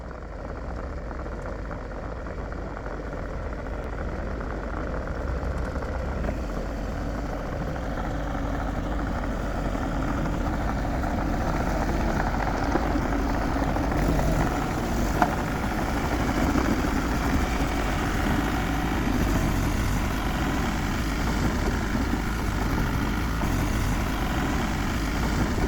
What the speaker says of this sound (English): So here's Dad bringing the excavator down the drive.